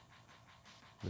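A dog pants in the game Final Fantasy VI on the GBA, quick soft breaths repeating faintly over a low background hum, ending in a short louder sound.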